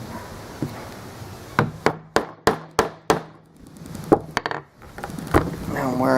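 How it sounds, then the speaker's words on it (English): Wooden hammer punching holes in banding, a quick series of about six sharp, loud wooden knocks in a steady rhythm, then a few more scattered strikes close by, with faint background noise and no talk. "Now I'm wearing out my wooden hammer."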